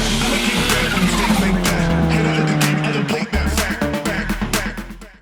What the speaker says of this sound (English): got all the best turbo noises you could ever imagine out of the B20 engine